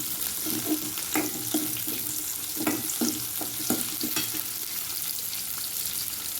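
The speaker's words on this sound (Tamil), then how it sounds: "புளி போட்டு நல்லா கொஞ்சம் புளி நல்லா வதக்கி விட்ருங்க" Ponnanganni greens and tamarind sautéing in a pan for chutney: a steady sizzle with repeated scraping stir strokes, close and moderately loud, no talk.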